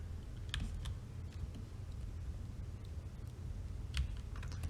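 Light clicks of typing on a computer keyboard come in quiet, irregular bursts close by over a soft background hum.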